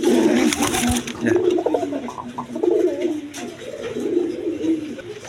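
A pair of Gorra pigeons coo steadily at close range in a pigeon seller's loft, their low rolling calls repeating over background chatter and a voice speaking.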